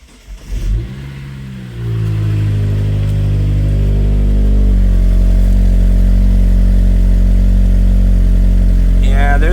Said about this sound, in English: let's see how the exhaust looks when you start it up.